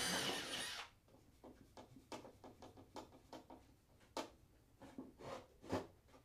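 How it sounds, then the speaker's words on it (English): A handheld power drill bores holes for number 5 screws in the wooden edge of a box, heard as a burst of whirring followed by a quieter series of short grinding pulses and taps, close by and fairly faint. "drill out those holes for number 5 screws"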